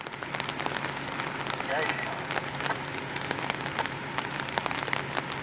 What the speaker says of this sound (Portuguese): tá chovendo no momento